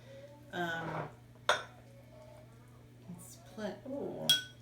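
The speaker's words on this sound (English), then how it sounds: "I'm going to serve up a little piece of my dish that I'm keeping so you can see what it looks like" Serving tater tot casserole onto a plate at home produces a few sparse clinks and scrapes of utensil against dish, quiet and close, with a low steady hum underneath.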